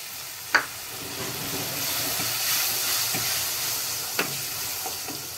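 Three chopped tomatoes go into a hot pan with turmeric and browned ingredients, setting off a continuous near hiss and sizzle, punctuated by two sharp clattering knocks early and late.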